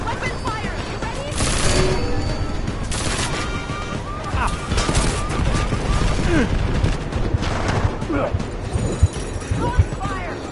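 Gunfire in Deus Ex Mankind Divided rings out in loud close volleys and rapid bursts, mixed with shouted game voices and combat noise, with the shooting continuing unevenly throughout.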